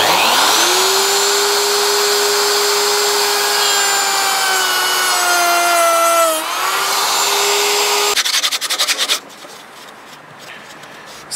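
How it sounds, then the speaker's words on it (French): A wood router cuts holes into reclaimed pallet wood in a workshop, a loud, close, steady high whine with shifting pitch as the bit bites, then the motor winds down and stops, leaving faint handling noise. "pour faire mes trous, j'utilise la défonceuse."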